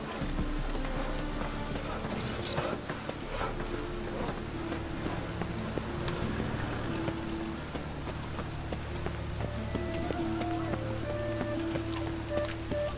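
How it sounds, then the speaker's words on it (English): Steady heavy rain pours throughout in The Witcher 3, a dense hiss with scattered drops, while soft musical tones drift underneath. "Real cloudburst."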